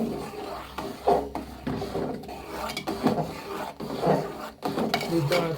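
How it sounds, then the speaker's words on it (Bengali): Spoon stirring powdered milk into payesh in a pot, a steady scraping and rasping run of strokes with short pauses, close and moderately loud, with no talk. "গুঁড়া দুধটা দিই আর নাড়া দিই"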